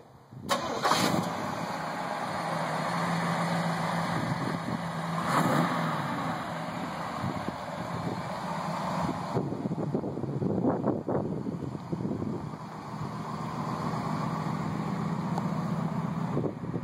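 A 1939 Ford convertible fitted with a Chevy V8 and transmission cranks and starts, then idles with a rumbling burble and several revs, close by with some wind noise on the microphone.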